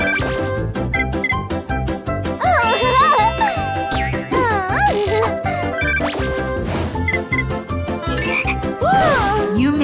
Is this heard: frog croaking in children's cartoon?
yes